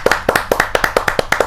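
Audience at a Hindi kavi sammelan clapping to welcome a poet before a comic verse: brisk rhythmic hand claps, about ten in under two seconds, fairly loud and close, steady tempo with no voices.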